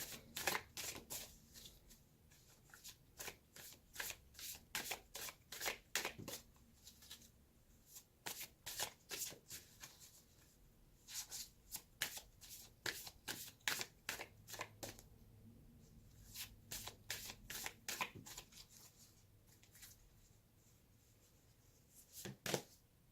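Oracle cards shuffled by hand during a tarot-style reading, a long run of soft, close riffling and slapping card sounds in irregular bursts with short gaps, fairly quiet throughout.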